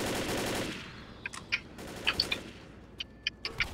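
Gunfire in the video game Left 4 Dead: a dense burst of noise at the start, then scattered sharp shots in short irregular clusters, moderately loud with no talk.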